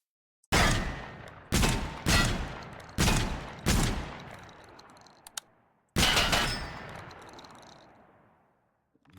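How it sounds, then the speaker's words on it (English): Automatic A12 shotgun fired in the TaCZ video game: five loud, booming blasts in quick succession with ringing tails, a pause, then one more heavy shot decaying slowly to silence. "Moving on, we got the A12 shotgun."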